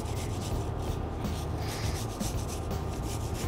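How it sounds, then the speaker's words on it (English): Green apple being grated by hand, a steady continuous rasping scrape with a dense gritty texture and no pauses, close and fairly quiet. "I'm going to grate some green apple"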